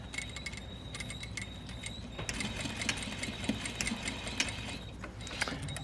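A sewing machine top stitches a fly front zipper, running steadily and close up with a busy mechanical whir and needle clatter and no voices.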